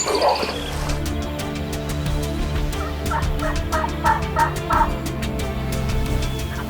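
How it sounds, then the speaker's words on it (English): Wild turkeys gobble in the distance, several short rattling bursts over a steady hum of background insects or frogs. "we could hear some hens yelping in there"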